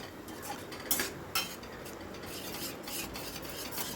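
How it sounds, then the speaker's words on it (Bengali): A spatula stirs and scrapes spice paste around a pan for an egg dish with grated raw mango, steady rasping strokes with a few sharper metallic knocks, close and continuous with no talking. "মশলাটা এবার ভালো করে কষিয়ে নেব। অনবরত কিন্তু নাড়ছি।"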